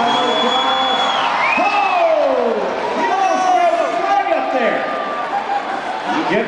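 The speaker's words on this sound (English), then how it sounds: "This crowd is loving this stuff in here" A large crowd at a monster truck show cheers and whoops loudly, with overlapping shouts and rising and falling yells, and an announcer-like voice talking over it.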